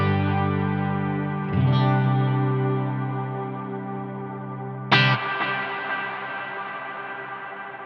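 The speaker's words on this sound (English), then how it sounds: "That's one hell of a long reverb." Electric guitar run through a Neural DSP Nano Cortex default preset, two sustained chords each ringing out into a very long, washy reverb tail that keeps decaying across the whole stretch, with no voices.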